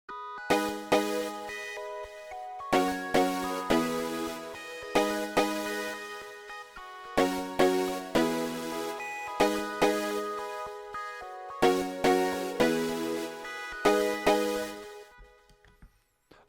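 A dancehall beat carries an arpeggiated synth melody over chords, with bright plucked notes in short repeating bursts and clean gaps between phrases. It plays at a moderate level with no talking.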